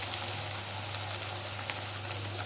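Onions, ginger and garlic paste frying in mustard oil, a steady soft sizzle and crackle over a low electrical hum, fairly quiet and continuous with no talking.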